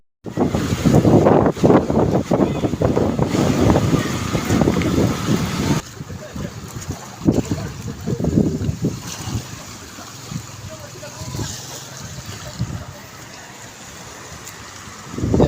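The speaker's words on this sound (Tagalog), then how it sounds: "Sobrang lakas ng hangin." Strong wind roars over a lake in stormy weather with rain and waves, buffeting the microphone in loud gusts that ease later while someone talks over it.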